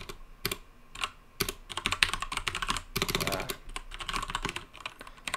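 Python code typed on a computer keyboard: dense, close, continuous clatter of keystrokes in quick uneven runs with brief gaps, and no voice over it.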